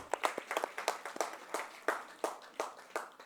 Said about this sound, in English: Let's keep the applause going on.